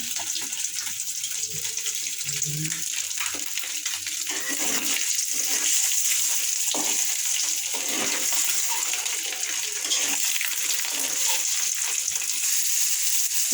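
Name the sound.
egg frying in a pan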